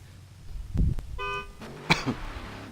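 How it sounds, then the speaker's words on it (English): A short, single car horn honk sounds briefly at a drag racing qualifying start line amid low rumbling and a few knocks, fairly close and moderately loud. "honk your horn and then you may go, buddy"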